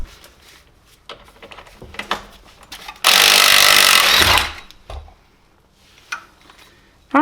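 A power tool briefly drives a screw-type ball joint tool to drop a ball joint on a crash-damaged Subaru Forester, one loud buzzing burst about a second and a half long amid quiet clicks and handling noises.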